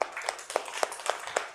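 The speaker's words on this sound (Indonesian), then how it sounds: "tepuk tangan dong buat kelompok 2" A single person or small audience claps for a student group presentation in a classroom session, about six sparse, evenly spaced claps over a short stretch, fairly close.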